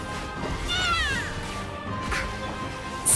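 In Genshin Impact, a cat meows once, loud and upward-sliding, as it is being hurt, over a steady game background with a few thuds and a sharp crash at the end.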